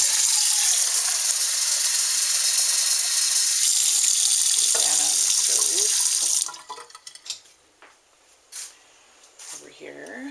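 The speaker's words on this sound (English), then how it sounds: "So I'm going to put some water in this pan." Tap water runs loudly into a cooking pan, a steady close gushing stream for about six seconds that then cuts off, followed by sparse clinks and handling knocks of the pan.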